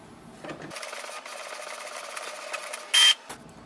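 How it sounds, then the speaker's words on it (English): An Epson EcoTank ET-2811 inkjet printer prints a page, giving a steady whirring mechanical run with soft clicks from the paper feed and one brief, sharper high whine near the end. No one speaks. "So we can see printer has printed the page, so that's the test page."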